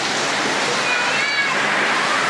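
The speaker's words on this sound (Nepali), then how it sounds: "असिना पानी झरिरहेको छ यता" Hail and rain pour down steadily in Sange village, a dense, even hiss that holds at the same loudness throughout without a break.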